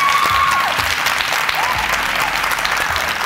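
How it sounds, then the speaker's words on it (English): A studio audience applauds loudly and steadily after a debate round on a televised leadership competition show, dense clapping filling the whole stretch without a break. "A round of applause for debate 3."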